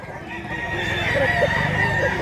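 A rooster crows once in a Cebu chicken market, a clear, drawn-out call close by against a light background murmur.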